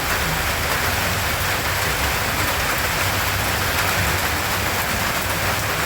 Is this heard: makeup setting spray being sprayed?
no